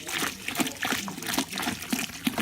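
Very hot tap water from a sink streaming into a gallon jug, a steady splashing trickle with small gurgles and plops, close and continuous throughout.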